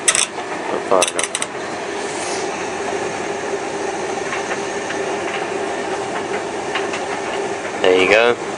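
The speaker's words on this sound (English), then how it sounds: "There you go, tumble dryer." A household tumble dryer runs with a load of towels, a steady close mechanical rumble with soft rhythmic tumbling, and brief faint voices near the start and end.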